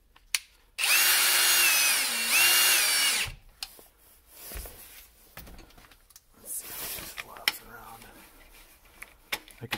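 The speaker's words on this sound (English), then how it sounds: "Got the drill with the screw loaded up. We're just gonna shoot that right in there." A cordless drill drives a screw into a garage door opener mount, one loud whining burst of about two and a half seconds, followed by quieter handling clatter and brief speech.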